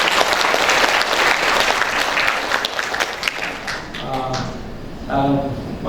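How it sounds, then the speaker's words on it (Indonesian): Audience applause rings out at a Capping Day ceremony for AKPER Kesdam I/BB nursing students in Medan and Binjai. Steady, dense clapping fills the hall and thins toward the end as voices come in. "Tepuk tangan dulu untuk suaranya."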